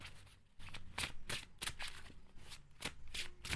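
Tarot cards shuffled by hand come through as a quick series of close, crisp riffling bursts with short gaps between them, quiet overall and heard on their own.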